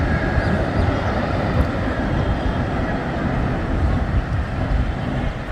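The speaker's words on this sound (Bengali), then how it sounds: "এই মুহূর্তে বিমানটি ল্যান্ডিং করবে রানওয়েতে।" A Biman Bangladesh Airlines Boeing 787 Dreamliner touches down on the runway, a loud, steady broadband jet roar that stays constant for several seconds, with no clear speech.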